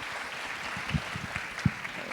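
Audience at a university business school open house clapping in a hall, a moderate spread of applause with a few sharper nearby claps standing out.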